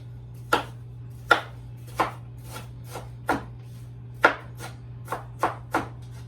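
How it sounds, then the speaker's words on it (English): A knife coarsely chops mushrooms on a cutting board, about ten crisp, close chops in a fairly steady rhythm over a quiet background hum, with no talking. "So let's go ahead and coarsely chop."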